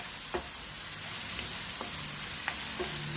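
Ginataang gabi with soy and oyster sauce sizzles in a pan, a steady faint frying hiss broken by several soft scraping stirs spaced across the moment.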